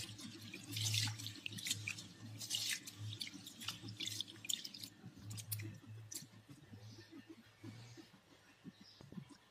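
Rice is rinsed in water: gentle sloshing and swirling with small splashes and drips, close and fairly quiet, easing off toward the end.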